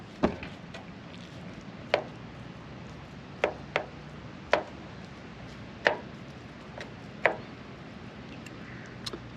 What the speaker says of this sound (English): just get that out of the can. And then kind of give it a little bit of a chop to loosen it up